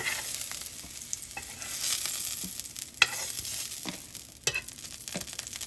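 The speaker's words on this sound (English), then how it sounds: "we're just going to take them right out of the pan" Seared mushrooms lifted out of a sizzling pan, with a steady hiss of frying under soft scrapes and a few sharp clinks of a utensil against the pan, no voices.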